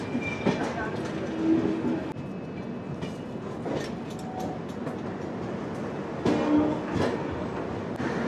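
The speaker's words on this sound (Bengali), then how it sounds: "ঘড়িতে সময় 1:23, ঢুকছি সিএসএমটি রেলওয়ে স্টেশন," A Duranto Express train pulls into Mumbai's CSMT terminus, with a steady rolling rumble, rhythmic wheel clatter over joints and a couple of brief squealing tones, heard from inside the moving train as a voice talks intermittently.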